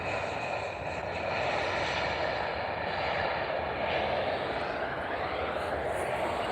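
A South African Airways Airbus A320 jet in Star Alliance livery passes at an international airport, a steady, loud broadband engine roar that slowly shifts in tone without letup, heard under occasional talk.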